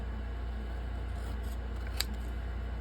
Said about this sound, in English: I am going to cut this here.